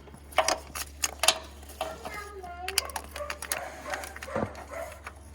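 Ratchet with a 10 mm socket loosening a bolt on a 2007.5 Dodge Ram 2500 Mega Cab 6.7L Cummins during A/C work, heard as quiet irregular clicks and mechanical ticks with faint voices nearby.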